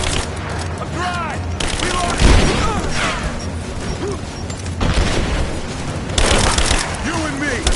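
Video game combat in Rise of the Tomb Raider with repeated loud gunfire bursts and booming explosions, close and dense throughout, while voices shout battle commands over the clamor.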